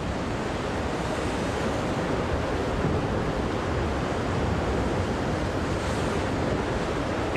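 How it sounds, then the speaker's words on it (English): Sea waves crash in a continuous roaring wash of surf at Polignano a Mare, Italy, loud and steady with no voices. "the waves crashing"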